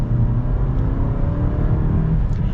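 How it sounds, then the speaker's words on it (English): A 2022 Toyota Camry Nightshade AWD accelerates with a loud, steady low engine rumble and whir heard from inside the car, unbroken and without speech. "we're gonna get our little acceleration here with the Camry"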